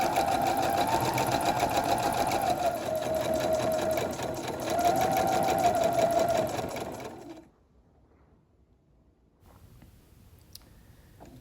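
A sewing machine stitching a coat runs steadily and close for about seven seconds with a smooth, even whir, then stops and leaves near silence with faint clicks.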